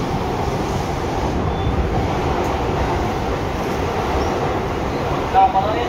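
Seibu 6000 series express train with Hitachi GTO inverter running between Seibu-Shinjuku and Tokorozawa, heard from directly above the line breaker: a steady, loud rumble of wheels and rail noise inside the car, continuous throughout.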